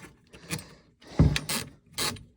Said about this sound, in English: You can hear the ratchet, and basically it's backed together.